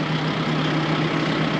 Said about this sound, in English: Just turn the tractor on first.